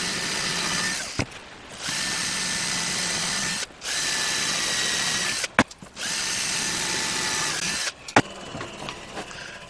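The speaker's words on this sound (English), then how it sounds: "Drill it down." A power drill boring a hole while building a router gear cutter, running in three long steady whining bursts of a few seconds each, separated by short pauses and clicks as the trigger is released.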